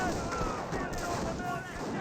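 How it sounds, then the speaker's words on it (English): Artillery fire in the Company of Heroes strategy game, a steady wash of distant rumbling blasts and gunfire that carries on at moderate level, with game voices faintly over it. "Pack 38 now receiving some artillery fire"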